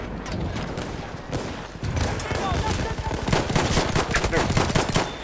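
Battlefield 1 gameplay gunfire, dense rapid bursts and shots crackling almost continuously, loud and close, with explosions and battle noise layered throughout.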